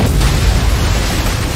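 A loud, rumbling explosion in a film at an office building, a continuous heavy roar without distinct onset that fills the whole moment, with no voices.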